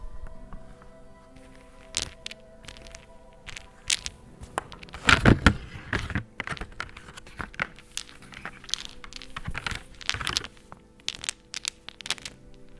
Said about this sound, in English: I will let you listen to these batteries clicking along